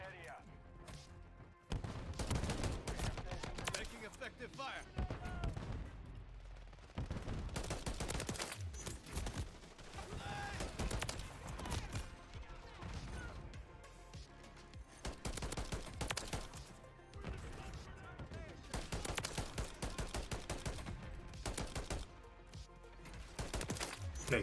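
Rapid DM 56 rifle fire from the video game Modern Warfare 3 cracks in dense, continuous bursts over in-game explosions and clatter. The sound stays loud and busy for most of the stretch, with brief lulls.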